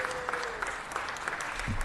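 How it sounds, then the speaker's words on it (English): A round of applause at a city council meeting: steady, fairly faint clapping from several people heard from a distance, with a brief low voice near the end. "One more round of applause."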